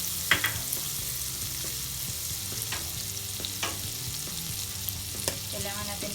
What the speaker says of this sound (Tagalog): naka-turn on na yung ating lutuan. Hayaan lang natin mag-melt si butter.